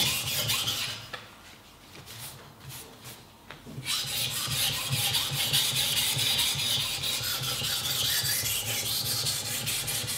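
A machete blade sharpened by hand, with a continuous rasping rub of the edge as the hand rolls the blade back and forth. It is close and steady, briefly softer near the start, with no voices.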